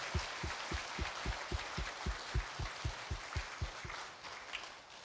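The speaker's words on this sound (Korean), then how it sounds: "다시 한번 큰 박수로 하나님께 영광 한번 올려드리겠습니다" In a Korean church, the congregation claps together in a steady, even rhythm, about three beats a second with a deep thump on each. The crowd keeps the beat for several seconds, then the clapping loosens and fades.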